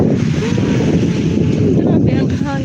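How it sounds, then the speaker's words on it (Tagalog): Strong wind gusting outdoors beside a home garden near a road, a steady loud roar of buffeting across the whole clip, with a voice faintly present underneath. "Grabe ang hangin."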